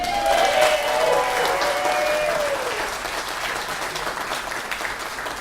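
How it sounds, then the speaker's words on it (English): Audience applause for the band at a live show, a dense wash of clapping that starts loud and eases slightly, with a brief cheering voice near the start. "Give everyone a round of applause."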